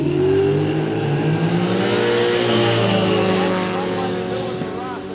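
Two drag cars launch side by side at a street drag day in Kooralbyn Valley, loud engines roaring and climbing in pitch together, then easing off slightly toward the end, with a voice commentating over them.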